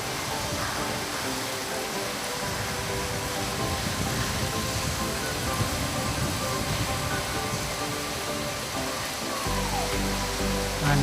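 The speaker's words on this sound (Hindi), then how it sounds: "बारिश एकदम तेज हो रही है," Heavy monsoon rain pours steadily on a rural village home in a strong wind, a dense continuous hiss that stays loud throughout with no voices.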